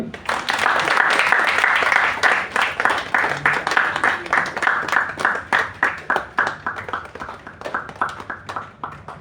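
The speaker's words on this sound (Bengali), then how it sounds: "সবাই একটু করতালি।" An audience at a book release event bursts into loud, dense applause that thins after a few seconds into slower, rhythmic clapping and fades toward the end.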